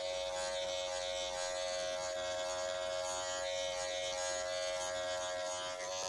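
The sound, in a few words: Wahl hair clippers cutting hair with 0 guard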